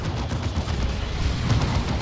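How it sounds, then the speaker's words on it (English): A Plasma Cannon fires in a Dawn of War 2 battle, a heavy booming blast with a dense rumbling tail, loud and close, no talking over it. "Plasma Cannon getting the shot there"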